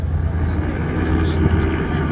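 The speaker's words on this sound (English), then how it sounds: "Motors begin to warm up." Heavy, continuous drone of bomber aircraft engines warming up on the deck of a carrier at sea, a loud low rumble that holds steady with slight fluctuations.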